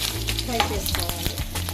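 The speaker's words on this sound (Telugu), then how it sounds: "ఫ్రై చేసుకోవాలి." Garlic and tempering spices frying in hot oil in a pan for a cabbage fry, giving close crackling sizzle with stirring scrapes and a few sharp pops across a brief stretch.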